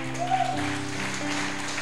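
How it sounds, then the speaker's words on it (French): A church congregation applauds in praise, a steady wash of clapping heard over sustained music, fairly even in level throughout. "On peut applaudir le Seigneur."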